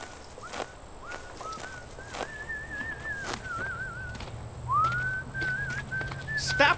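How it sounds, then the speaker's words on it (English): Someone whistles a meandering, wavering tune at moderate volume over a quiet background, with occasional clicks and taps. "That whistling"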